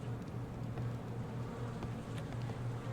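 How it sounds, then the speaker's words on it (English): Steady, faint droning buzz of bees near a beehive in a video game, a continuous low hum with no talk over it. "Hello, bees!"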